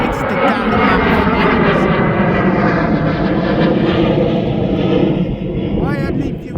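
A Jet2 holidays airliner taking off at East Midlands Airport gives a loud, steady, broadband engine roar that fills the whole stretch, with someone talking over it.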